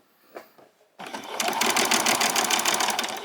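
After a short quiet pause, a sewing machine starts and runs a continuous back stitch straight across a seam of a pajama top, a loud, close, steady mechanical whir.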